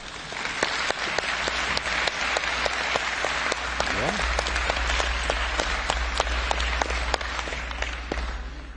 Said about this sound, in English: allez-y, applaudissez pour ceux qui ont voté sur ce rapport.